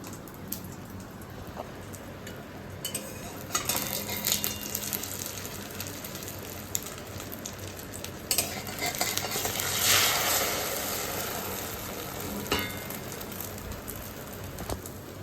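Whole spices for a dal tempering sizzle in hot oil, a continuous crackling hiss that swells and spits in bursts, with occasional light clinks nearby, close and without talk.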